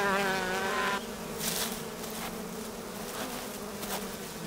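Bumblebees buzz loudly at their nest in the Carpathian Mountains, a close, harmonic drone for about a second that gives way to a rougher, scattered buzzing of many insects.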